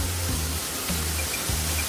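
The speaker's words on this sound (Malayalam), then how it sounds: "ഈ ബ്രിഡ്ജിന്റെ മുകളിൽ നിന്ന് നമുക്ക് അടുത്ത് പോയിട്ട് ഇതിന്റെ വെള്ളച്ചാട്ടം കാണാം" Waterfall at Neyyar Dam, a steady broadband rush of falling water, loud and continuous, with a few low thumps underneath and no talking.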